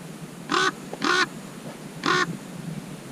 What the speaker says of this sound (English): The crow's giving his bit.